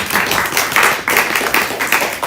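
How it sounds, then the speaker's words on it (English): An audience claps for a speaker at a 2022 Black History Month celebration, steady mid-loud applause with a dense patter of hand claps swelling in waves throughout. "give him a round of applause."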